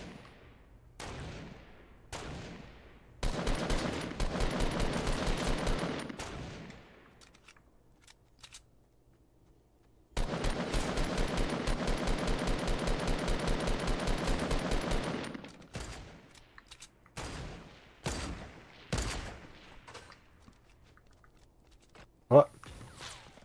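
Gunfire in Fortnite Battle Royale, two long rapid bursts of automatic shots with scattered single shots between them, fairly close, while players talk over voice chat.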